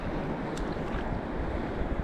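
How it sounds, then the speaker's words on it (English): Waves churn and slosh against a break wall, giving a dense, continuous wash of water noise with wind buffeting the microphone and no voices. "Might get some bigger waves right in this little area just because the break wall right there,"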